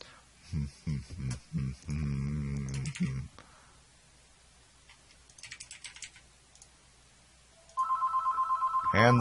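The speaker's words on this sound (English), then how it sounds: "And the phone again. They keep trying to call me, but I'm not available right now." A telephone rings in a steady, loud electronic trill near the end, after a burst of rapid keyboard typing and quieter clicking; no one speaks.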